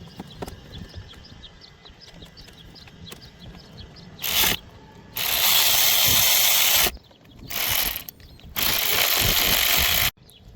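Small mechanical clicks while a hose clamp and parts are loosened on a car, then several loud, abrupt bursts of a power tool, two short and two long, close by with no speech.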